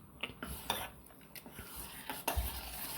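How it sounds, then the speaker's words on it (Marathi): A spoon stirs flour batter mixed with water in a bowl for Marathi ghavan crepes, making faint, irregular scraping and light clinks close by, with no talking. "आता आपण चांगलं मिक्स करून घेऊ"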